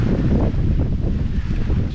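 Steady, loud wind buffets the microphone outdoors beside a freshly poured custom concrete fire pit, a continuous roaring rush with no break.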